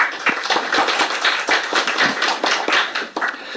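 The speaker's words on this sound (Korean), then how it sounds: "큰 박수 부탁드립니다." Scattered clapping from a small group at an academic AI ethics discussion event, steady and moderately loud throughout, with no voices over it.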